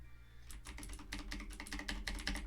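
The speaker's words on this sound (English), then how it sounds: "my keyboard is very loud" Loud computer keyboard typing, a steady run of rapid clattering keystrokes that starts half a second in and continues close to the microphone, with no voices.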